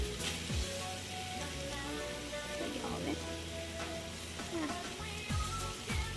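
Onions, minced garlic and tomato sizzle steadily in a pan, a soft continuous frying hiss with occasional scraping clicks over a faint background hum.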